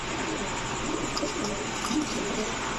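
Male Golla pigeons held for sale coo softly and repeatedly against a dense, steady hiss of background noise, with faint chirps and some indistinct voices nearby.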